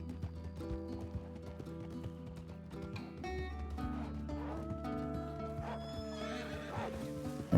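A tired horse in a video game whinnies and neighs over steady clip-clopping hooves, with game music playing underneath throughout.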